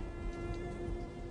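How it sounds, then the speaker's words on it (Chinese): Steady rain falls as a sound effect in a period audio drama, a soft, even hiss with no distinct drops or thunder, heard alone without voices. "下雨了"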